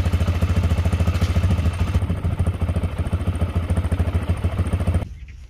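A worn-out Honda dirt bike engine fires and runs with a fast, loud, rattling putter, then cuts off abruptly near the end, leaving a quiet tail.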